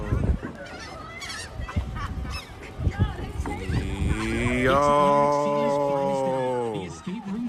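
Seagulls call in the UK, with harsh cries under lively overlapping talk, then one long drawn-out wailing call rings loud and close.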